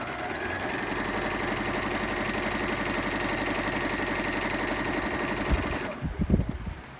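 A Brother Innov-is sewing machine runs a straight stitch with a fast, even mechanical chatter for about six seconds, close and steady, then stops and a few handling knocks follow.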